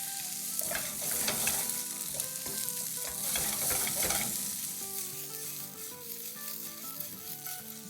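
Leftover rice balls stirred in a hot pan with garlic, green chillies and curry leaves, a loud continuous close sizzle and crackle broken by spoon scrapes and stirring clatter, with no talking.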